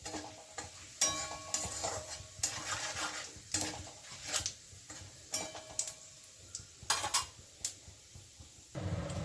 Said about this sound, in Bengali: ফোড়নে আমি তেজপাতা দিচ্ছি আর দিচ্ছি জিরে, গোটা জিরে।